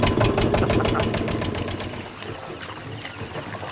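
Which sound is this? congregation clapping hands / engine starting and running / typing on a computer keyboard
engine starting and running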